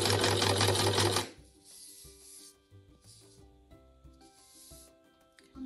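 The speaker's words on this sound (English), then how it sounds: "And then sew all the way down, trying to remain as straight as you can." A sewing machine stitches a straight seam on a boxed tote bag, first in a loud, fast continuous burst, then in short intermittent runs of stitching with pauses between, close and clear with no talking.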